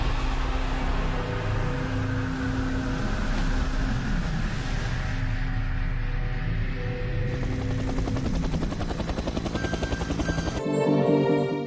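Rescue helicopter flying over the sea during the 1994 MS Estonia ferry sinking, as a radio drama effect: a steady loud rotor drone with layered engine hum runs throughout, shifting in tone near the end.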